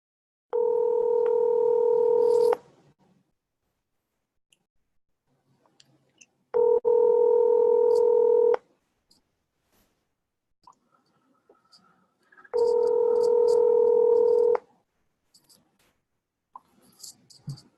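A telephone line sounds three long, steady two-tone beeps during dialing, each lasting about two seconds and spaced roughly four seconds apart, clear and close with only faint clicks between them.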